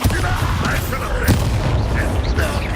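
A Bombarda spell explodes in Hogwarts Legacy with a loud, sustained booming blast and crackling debris, rumbling continuously amid spell-combat noise.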